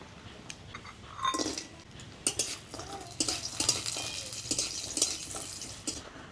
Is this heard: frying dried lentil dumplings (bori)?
yes